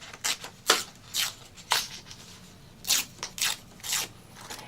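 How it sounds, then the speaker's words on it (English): Calendar paper torn along an envelope template in a series of short, close ripping strokes, each a separate tearing burst with quiet gaps between, no voices. "You position your template in there, and then you can just tear along that template"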